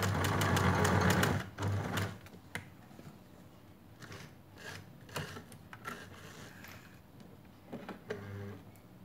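A sewing machine double-stitches a cotton face mask, a loud close burst of rapid stitching at the start followed by quieter clicks and handling of the fabric.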